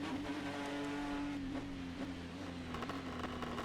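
A turbocharged V6 EcoBoost race car in the rFactor 2 game drones steadily with a buzzing anti-lag note, a sustained engine tone that stays fairly even, heard alone.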